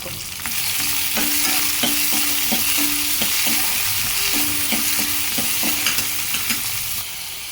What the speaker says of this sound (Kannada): ನಂತರ ಸ್ವಲ್ಪ ಟೊಮೊಟೊ, ಇದೆಲ್ಲನೂ ಹಾಕಿ ಚೆನ್ನಾಗಿ ಫ್ರೈ ಮಾಡ್ಕೋಬೇಕು